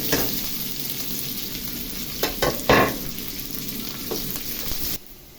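Garlic, onion and green chili fry in a pan with a steady close sizzle, and a few louder crackles and stirring sounds come through near the middle before the sizzle drops away at the end.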